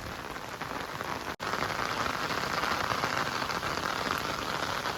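Heavy monsoon rain pours down at a village farmhouse in a dense, steady roar of drops drumming on surfaces. It has one brief dropout and no voices.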